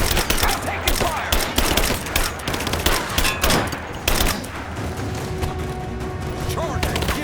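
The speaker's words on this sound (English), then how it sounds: "I'm taking fire!" Dense automatic and single-shot gunfire in the video game Rise of the Tomb Raider, a rapid chattering fusillade of loud cracks in close bursts that ease into a steadier rattle, with in-game voices shouting over it.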